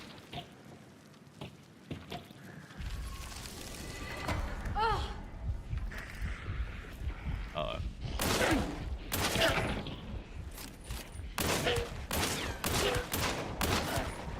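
Rapid bursts of gunfire ring out in the video game Hunt: Showdown, with clustered sharp shots and heavy volleys in the second half over a low, rumbling background.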